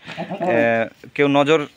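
Totapuri goats at a goat farm give two close, loud, wavering bleats in quick succession, the second one rising and trembling.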